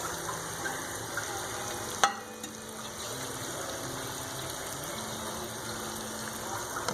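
Ginger garlic paste frying in a karahi for chicken karahi, a soft continuous sizzle with one sharp clack as it is added and stirred.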